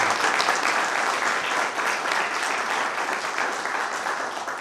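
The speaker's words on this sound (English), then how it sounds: "If I could I get a big clap for the guys who are off?" A council meeting audience gives steady, sustained applause for off-duty firefighters, many hands clapping at an even, fairly loud level that eases slightly toward the end.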